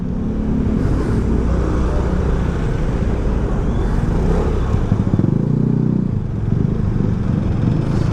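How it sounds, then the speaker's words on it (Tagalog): Road traffic surrounds a Vespa GTS Supersports 300 scooter in motion, with a steady, loud engine drone and rumble of nearby vehicles throughout, rising briefly as engines rev. "Traffic."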